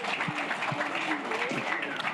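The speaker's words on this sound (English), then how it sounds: "Clap for that." Applause from the audience at a beat-maker discussion panel, a brief even wash of clapping with a few faint voices mixed in.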